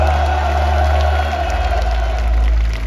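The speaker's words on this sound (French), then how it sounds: "applaudissements au son pour Clément, Louis et Jella Chart" An audience at a French tuning show event applauds and cheers for the named participants, a steady wash of clapping and whoops with a low rumble underneath, loud and close.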